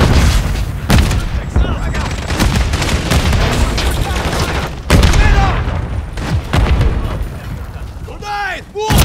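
Grenade blast and rapid gunfire in the Call of Duty Modern Warfare 3 multiplayer mode, loud dense bursts of shots and booms piled on each other, with brief voices shouting in the mix.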